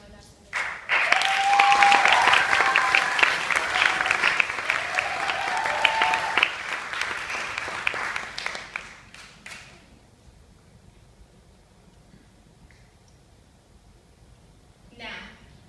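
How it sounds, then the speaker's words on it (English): An audience at a benefit concert breaks into a full round of applause with some whistles and cheers, loud for several seconds and then thinning to scattered claps before fading out. "I would like you guys to join me in a round of applause for everyone that has joined us today"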